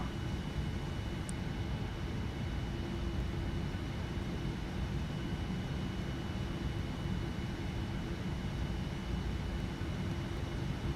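QualityWings 787 engines powering up in FSX as the airliner rolls for takeoff from PHL, a loud, unbroken roar with a low rumble that holds steady and alone throughout.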